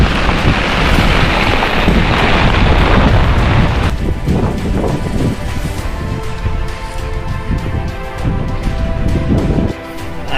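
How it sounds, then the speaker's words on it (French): A strong gust of wind buffets the microphone beside a tent along the Loire, a loud roaring rush that eases midway into a steadier, lighter blow, with no speech. "rafale."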